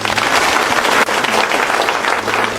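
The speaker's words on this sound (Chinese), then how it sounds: "大家掌声欢迎。" Sustained applause from a classroom of students welcoming a new homeroom teacher in an anime school scene, a dense, steady clatter of many hands that fills the whole clip at close range.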